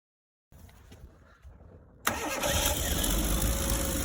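A red classic Mini Cooper S recreation with a standard exhaust manifold cranks over and fires up, settling into a loud, steady, rough-running idle close by.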